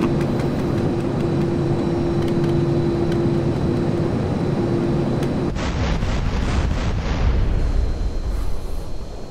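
In GTA San Andreas, a steady aircraft engine drone holds until a satchel charge sets off a loud explosion aboard a plane, followed by a rumbling roar and crackling debris, with no talking.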